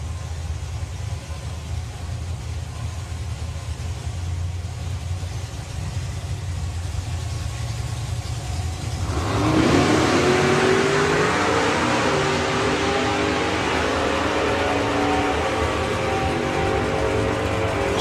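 At the line of the NSRA Hot Rod Drags, drag cars including Mick Allen's Quick Buck Corvette idle with a low engine rumble, then roughly halfway through they rev sharply into a loud, sustained roar with a rising whine.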